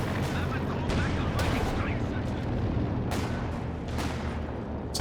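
Heavy battlefield gunfire in the video game Company of Heroes 2, a loud, continuous barrage of rifle and machine-gun fire punctuated by sharper sniper cracks, with a voice talking over it.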